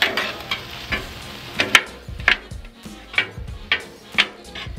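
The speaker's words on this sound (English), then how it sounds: "I'm just using my scraper here to cut through this all" A metal scraper chops and scrapes through sausage, eggs and hash browns on a Blackstone griddle, sharp repeated clacks at a steady rhythm over a faint sizzle.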